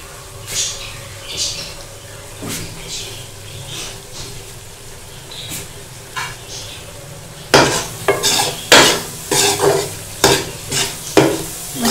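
Masala roasting for dhaba-style moong dal in a pan, a low frying sizzle with scattered spoon scrapes that turn into loud, rapid stirring clatter in the second half.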